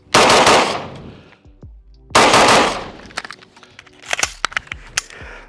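Two loud bursts of rapid gunfire at a swinging metal target, followed by scattered single shots and sharp metallic clanks of hits, close and echoing.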